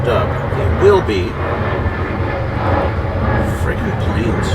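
Airplane passing overhead outdoors, a low steady engine drone rumbling through the whole stretch with a voice speaking over it.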